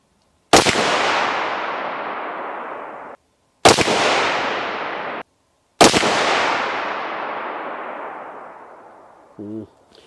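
Three loud rifle shots fire solid copper bullets outdoors, each a sharp crack followed by a long rolling echo that fades over a few seconds, with a faint brief sound at the end.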